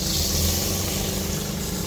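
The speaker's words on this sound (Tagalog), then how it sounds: "tapos lagyan na po natin siya ng tubig ano" Water pours steadily into a pan of chicken adobo, a continuous close rushing splash with no pauses or voices over it.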